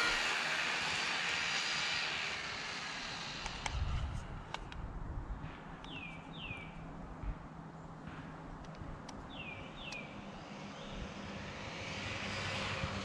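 An RC drift truck's electric motor runs at full throttle outdoors, a continuous rushing whine that swells and eases, with a few faint bird chirps in the background.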